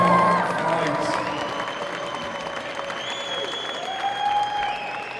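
Crowd applause and scattered cheering at a TXMMA amateur MMA event after a five-round fight, loud and steady at first and then slowly fading, with an announcer's voice running over it.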